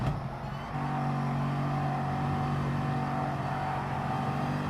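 A Bugatti Veyron in a racing video game at Monza drones with a loud, steady engine tone, a sustained harmonic hum after a short dip at the start.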